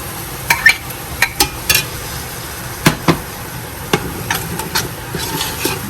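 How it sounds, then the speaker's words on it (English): Spinach being stirred into a Guyanese corn soup in a pot, with a spoon knocking against the pot in sharp, irregular clacks over a soft simmering background, close by and with no talking. "All you're doing here is just mixing everything in the pot nicely."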